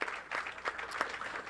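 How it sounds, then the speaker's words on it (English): Audience applause for bowler Brian McKinley at a televised bowling tournament, a steady wash of clapping from a crowd that holds evenly through the short moment without anyone speaking. "Big round of applause for Brian."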